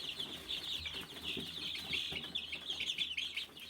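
A dense flock of chicks chirping continuously in reaction to a hen's egg shell, high-pitched peeps overlapping throughout at a steady, fairly loud level with no pauses.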